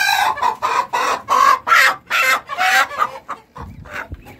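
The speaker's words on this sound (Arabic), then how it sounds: "تعال بقى مع بعض نجيب الفرخه الهندي دي، لان فعلا مستواها عالي" An Indian breed hen clucks repeatedly at close range in a series of loud, rhythmic bursts, with a few quieter low sounds near the end and no talking.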